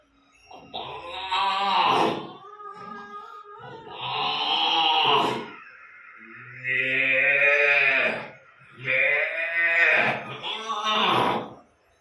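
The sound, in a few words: imitation of cows and calves mooing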